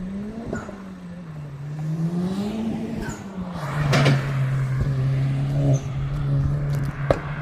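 Honda Civic Type R engine on a track, a steady continuous drone that rises and dips in pitch, swelling louder around the middle, with a few brief knocks and clicks.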